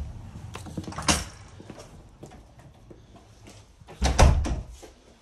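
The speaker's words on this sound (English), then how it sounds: "Timber entrance door." A timber entrance door being handled, with a thump and rattle near the start and a louder bang toward the end, close amid faint background noise.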